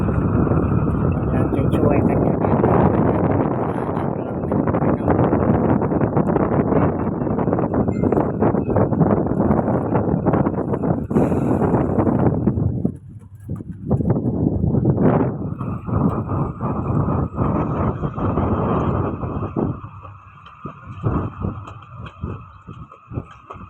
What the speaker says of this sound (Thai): ลมมันแข็งลมมันแข็ง ลมก็แข็งฝนก็ตก